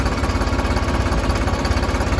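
A New Holland 3630 tractor engine runs at idle nearby, a loud, steady diesel chug with rhythmic knocking pulses and no voices.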